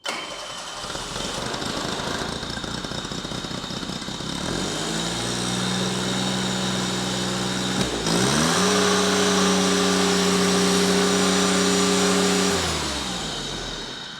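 A cold carbureted John Deere engine cranks briefly, fires right up and settles into a loud, close, lopey idle, its pitch shifting once before running steadily and then tapering.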